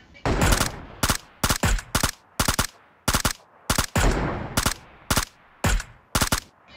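Gunfire in a battle royale video game comes in rapid sharp bursts: single shots and quick clusters crack out repeatedly, loud and close throughout.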